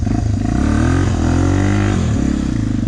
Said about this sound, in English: Plenty of power.